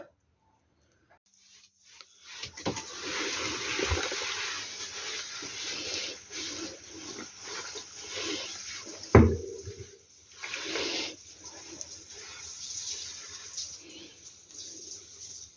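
Water pours over cucumbers packed with garlic, dill and horseradish leaf for pickling, a steady rushing splash that starts after a quiet moment and runs on with small clinks and a louder knock midway.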